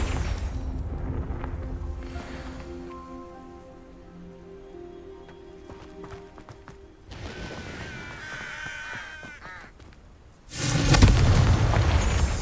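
Confringo fire spell in the game Hogwarts Legacy, a crackling, rain-like hiss that swells into a loud booming explosion near the end, following a sustained tonal magic hum earlier on.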